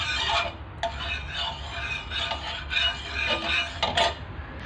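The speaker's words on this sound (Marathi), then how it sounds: "आता त्याच्यावर आपण तेल आहे ते लावून घ्यायचं आहे" Oil being spread across a hot iron tava before cooking fasting-day dhirde gives close, dry rasping scrapes in irregular strokes, with a few sharper scratches near the end.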